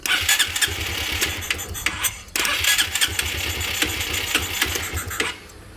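A Honda PS150i scooter engine cranks and fires after an ECU repair, sputtering unevenly with a brief stall, then catching again into a rough, close idle.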